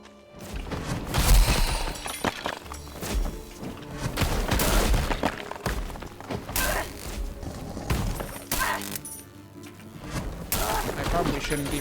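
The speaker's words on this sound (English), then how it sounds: "Somebody's shooting at me." Gunshots in the fantasy action game Darkhaven, cracking and shattering in irregular bursts among crashes and mechanical clatter, with a voice talking over much of the scene.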